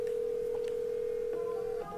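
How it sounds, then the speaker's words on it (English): A phone call being placed: a steady telephone tone rings out continuously, loud and alone, with faint faint clicks near the end. "so let's call Queen"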